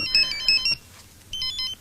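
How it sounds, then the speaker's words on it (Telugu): A phone's incoming-call ringtone plays close and clear, two short bursts of bright electronic beeping separated by a brief pause. "బాలు, నేనే నీకు ఫోన్ చేద్దాం అనుకుంటున్నాయా."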